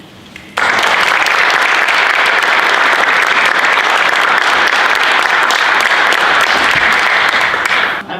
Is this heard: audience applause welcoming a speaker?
yes